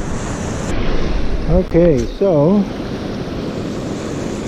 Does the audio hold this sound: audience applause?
no